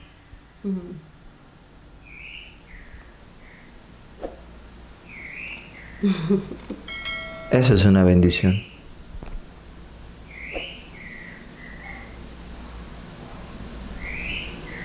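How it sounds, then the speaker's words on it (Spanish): A small bird sings outdoors in short, high chirping phrases repeated at intervals, faint and somewhat distant, while someone speaks in Spanish in the foreground. "No sé si ustedes ahorita en este momento alcanzan a escuchar el canto hermoso de un pajarito."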